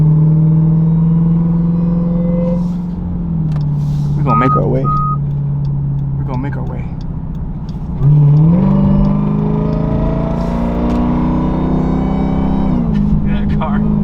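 A 2023 Dodge Durango Hellcat with its muffler deleted drones loudly and close, a deep steady exhaust rumble that surges as it accelerates around the eight-second mark, with a person talking briefly over it.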